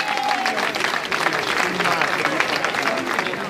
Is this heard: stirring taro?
no